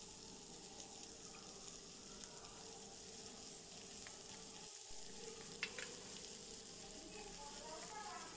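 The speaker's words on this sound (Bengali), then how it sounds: "আলুগুলো ভালো করে ভেজে নেব" Potatoes frying in a pan over lowered gas for koraishutir ghughni, a faint, steady hiss of sizzling oil with a few tiny crackles, quiet and unbroken throughout.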